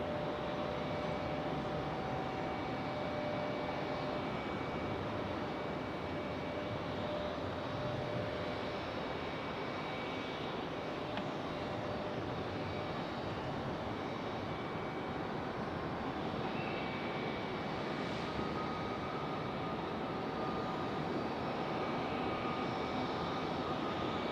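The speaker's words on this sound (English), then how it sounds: "So this E-175 finally getting to move on." An Embraer E-175 jet airliner taxis at Raleigh-Durham airport, giving a continuous, even engine roar and whine that holds steady throughout at a moderate distance.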